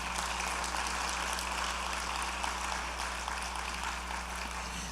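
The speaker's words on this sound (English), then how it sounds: "That deserves a round of applause." Steady applause from an audience at a law school anniversary colloquium, a dense wash of many hands clapping at moderate distance, continuous and even throughout with no voices over it.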